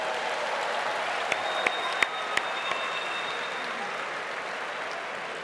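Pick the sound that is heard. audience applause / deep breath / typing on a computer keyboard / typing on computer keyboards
audience applause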